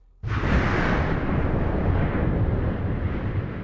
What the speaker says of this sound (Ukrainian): А ввечері, 10 квітня 1815 року, за 2000 миль звідти гора Тамбора Вибухнула.